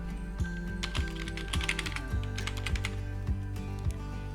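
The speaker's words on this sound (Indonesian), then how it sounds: "Lalu ketikkan password." Fingers typing a password on a computer keyboard, a quick run of about a dozen close, crisp key clicks in an uneven rhythm, with no talking over them.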